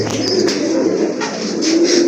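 Soft, continuous pigeon cooing fills the clip, a low throaty murmur from several birds close by, steady throughout with no talk.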